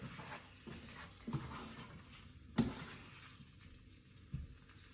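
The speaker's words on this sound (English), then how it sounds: "Now you want to give it a little stir as much as possible" Food is stirred in a pan for Moroccan pork with figs, a few soft scraping knocks and one sharper clatter of utensil against metal, quiet and intermittent.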